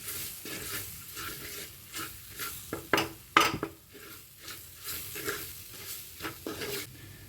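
Pepper-spiced chicken is stirred and heated in a pan, with repeated spatula scrapes and clinks against the metal over a soft, intermittent sizzle.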